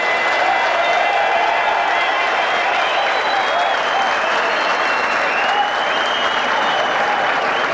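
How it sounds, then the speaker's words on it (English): A boxing-event crowd applauds loudly and continuously after the national anthem, a thick roar of clapping mixed with cheers and crowd noise that stays strong from start to finish. "Let's have a big round of applause for Miss Audrey Crawford from Lowell"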